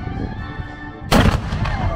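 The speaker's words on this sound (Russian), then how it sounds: "Здесь даже старинные пушки действующие." A single loud blast from an old cannon booms out of a low rumbling background, its sharp report echoing and fading over the next second.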